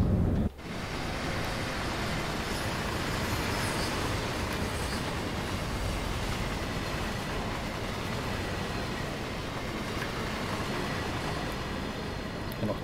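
A BR 185.2 electric locomotive in Train Sim World 2 rolls over a switch on a Rhine-Ruhr main line, giving a continuous loud rumble and rail noise that runs steadily throughout with no talk.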